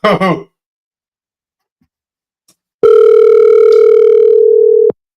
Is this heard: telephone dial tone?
yes